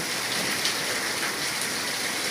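Steady rain falls on the city of Khulna, a dense, even hiss of drops on surfaces with no voices.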